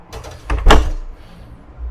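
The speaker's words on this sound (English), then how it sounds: "if I open the door, it's just catching this thresher" A front door being fitted with a draught-proofing kit is pulled open and scrapes as it catches on the threshold, a short, loud rubbing knock near the middle, followed by quiet.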